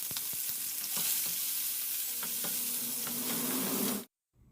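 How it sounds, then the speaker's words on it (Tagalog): Cabbage and tomato sauté in oil in a pan, giving a loud, steady sizzle close by, with light clicks of stirring scattered through it, until the sound cuts off abruptly near the end. "Habang ginigisa natin,"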